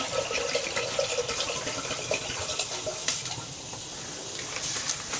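A liter of water poured into a kettle sitting on a hot wood stove, a steady close splashing and trickling stream lasting several seconds, alone without talk.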